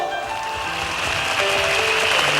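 Concert audience applauding at a Cantonese pop show, a dense, steady wash of clapping that continues throughout, with a sustained musical tone ringing underneath.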